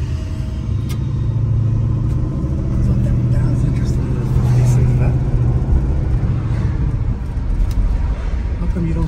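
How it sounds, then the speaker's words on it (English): A 1963 Buick LeSabre with original lacquer paint drives by, its engine a steady low rumble that builds slightly midway, while people talk nearby. "There's a line of people looking to watch the Buick go by."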